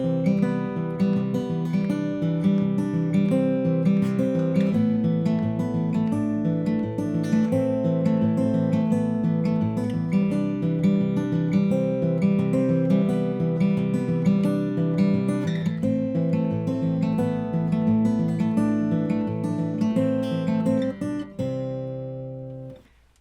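Fingerstyle acoustic guitar plays a continuous picked pattern of bass notes and arpeggiated treble strings, moderately loud and close, for about twenty seconds before the final chord rings out and fades.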